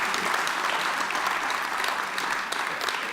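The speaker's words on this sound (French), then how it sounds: "on peut les applaudir bien fort" Audience applause at a New Year's wishes ceremony rolls on steadily, many hands clapping at once in a dense, loud, sustained wash.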